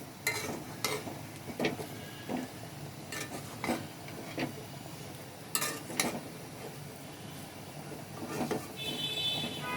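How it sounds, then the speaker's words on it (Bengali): A spoon scrapes and knocks around a pot of bhuna khichuri finished with ghee, soft irregular clinks and scrapes repeating at a steady pace over faint background hiss, with no talking. "এখন আমরা এটা ভালো করে মিশিয়ে নিচ্ছি, নিয়ে নামিয়ে ফেলব।"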